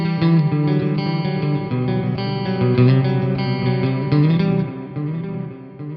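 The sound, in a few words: Vola OZ ROA electric guitar with reverb and delay effects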